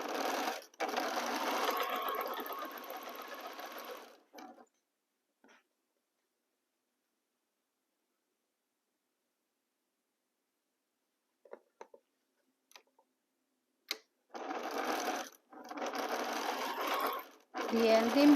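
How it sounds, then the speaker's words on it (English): A sewing machine stitches quilt block fabric for an Ohio Star quilt in two steady, close-up runs. The first run lasts several seconds, followed by a long quiet pause with a few faint clicks, then stitching resumes toward the end. "We line up our material and start sewing."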